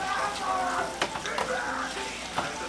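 Seasoning being stirred into beef stroganoff sizzling in a pan, a continuous frying hiss with a few distinct spoon scrapes and knocks scattered through.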